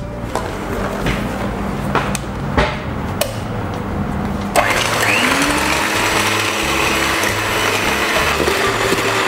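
An electric mixer beats cake batter with SP emulsifier until stiff, for a tape and walnut cheese sponge cake. A few knocks and clatters come first, then a steady, loud whirring drone runs unbroken to the end.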